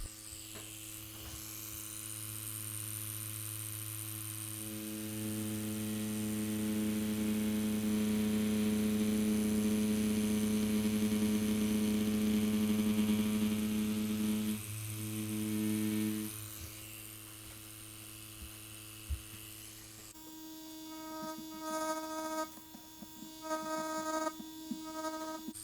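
A tattoo machine drawing outlines on skin for an old-school rose runs as a steady electric buzz with a strong mains-like hum, held continuously for most of the stretch before shifting to a different tone near the end.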